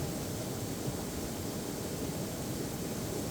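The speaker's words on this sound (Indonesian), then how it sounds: "aliran sungai" A flowing river at a campground in Ciwidey, Bandung, a constant broadband rushing hiss of water, steady and unbroken, fairly faint and uniform with no voices.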